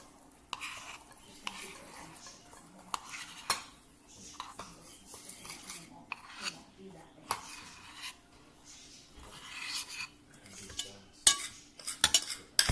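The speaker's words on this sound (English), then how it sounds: "Now mix these two amazing and beautiful ingredients that will make our filling together until you get a nice consistency" A peanut butter mixture is stirred into whipped topping in a bowl to make the filling for a peanut butter chocolate Oreo pie. Close, irregular scraping and stirring strokes repeat throughout, with no talking.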